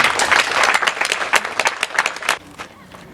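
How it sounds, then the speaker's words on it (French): Audience applause at a donation ceremony for victims of post-election unrest in Toumodi, a dense burst of clapping that holds steady, then thins and fades out near the end. "je vous demande d'applaudir pour sa générosité"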